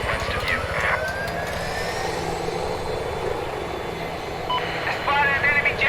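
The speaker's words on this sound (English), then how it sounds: "I spotted an enemy jet." Enemy jet aircraft in a PUBG-style battlefield video game, a continuous loud engine roar and rushing drone running throughout, with brief game chatter and radio-style voices layered over the noise.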